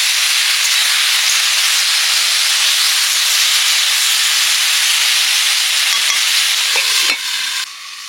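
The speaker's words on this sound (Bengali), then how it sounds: "ভেন্ডিগুলো ভালো করে কষে নেব, আবার ঢাকা দিয়ে দিলে।" Okra fries in a covered pan, giving a steady, loud, dense sizzle and hiss that holds evenly, then drops in level near the end as the lid or pan shifts.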